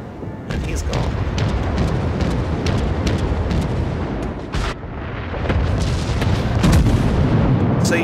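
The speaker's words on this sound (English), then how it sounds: "the person you're firing against pinned himself against the rocks, is continuing fire against the rocks, hitting only the landscape" Naval guns fire in the World of Warships game, with repeated booming salvos and sharp blasts across the stretch as a player talks over the battle.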